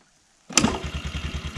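A 1988 Kawasaki KX80 motorcycle engine catches after a sharp start and settles into a rapid, steady, pulsing idle, close and fairly loud.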